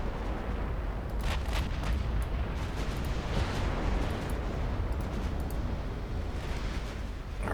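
18-inch naval guns of battleships in Ultimate Admiral Dreadnoughts fire in a steady barrage, a dense wall of heavy booms with repeated sharp cracks layered over constant low rumble.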